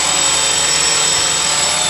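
A homemade hexacopter drone hovers in GPS mode nearby, a loud, steady whirring buzz of its rotors holding constant throughout with no talk.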